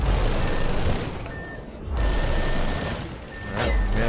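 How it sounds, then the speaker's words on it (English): Missiles firing in the aerial combat video game Project Nimbus, with rushing launch whooshes and a rumbling engine roar broken by short dips, thin electronic warning tones recurring over the noise. "Let's fire some of our own missiles at him."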